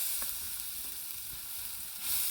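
Chicken curry cooking in an uncovered pot, a steady close hiss and sizzle with faint stirring scrapes, no talk.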